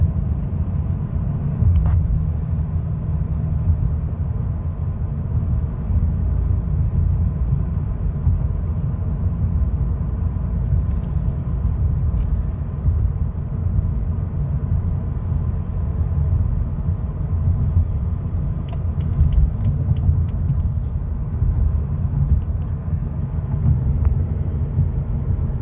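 BMW 228i xDrive engine running steadily through gear shifts at low speed, a continuous low rumbling drone with mild rises in level, heard from inside the cabin with no talk.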